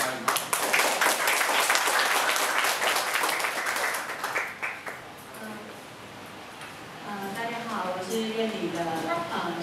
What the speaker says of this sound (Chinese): 那我现在先掌声欢迎陈慧敏女士来讲一下反风车的一个始末